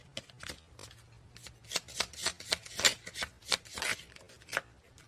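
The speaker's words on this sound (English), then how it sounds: "In the middle of me trying to gather the cards" Tarot cards are gathered and shuffled close up in quick, papery riffling bursts, about a dozen sharp flicks and rustles in an uneven rhythm, with no talking.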